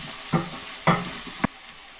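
Chicken masala seasoned with chilli powder being stirred in a frying pan, three short scraping strokes with a soft sizzle underneath, close and quiet.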